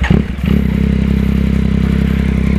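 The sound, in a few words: Yamaha XSR900 motorcycle exhaust revving without silencer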